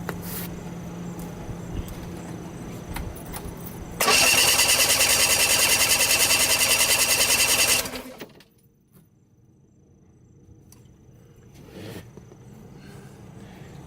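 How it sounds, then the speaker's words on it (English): A Mercury 40 HP outboard engine cranks over during a compression test, a loud, rapid, rhythmic whirring lasting about four seconds amid quieter background noise, then stopping. "And now we're gonna crank it again."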